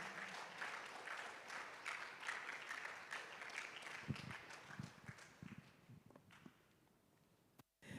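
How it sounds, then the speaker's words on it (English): Faint audience applause for a guest moderator at a university sports games launch, a soft scattered patter of claps that thins into a few isolated claps before stopping abruptly. "A round of applause for my guest moderator."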